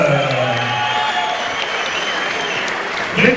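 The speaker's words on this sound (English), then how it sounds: "Give a big round of applause for Michael Pretty Boy Zerafa." A boxing crowd at the Frank Bianco Cup breaks into strong, steady applause after a fight's result is announced, the clapping dense and even, then rising into a brief swell at the end.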